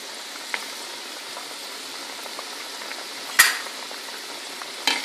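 Mutton kheema kebabs frying in a pan, a soft steady crackle with a couple of sharper sputters or clinks, close and fairly quiet, with no talking.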